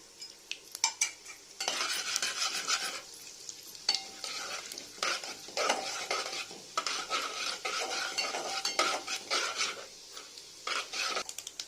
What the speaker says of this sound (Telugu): ఆయిల్ వేడైన తర్వాత ముందుగా తీసి పక్కన పెట్టుకున్న పోపులన్నీ వేసుకుని